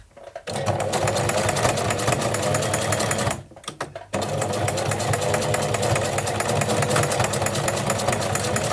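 A home sewing machine runs a continuous, close, loud whir while stitching forward, then pauses briefly before resuming for another long steady run of stitches.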